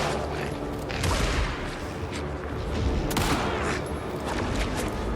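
Gunfire in a horror action video game, a dense, loud burst of rapid shots with a sharp crack around the three-second mark and continuous noisy combat sound throughout.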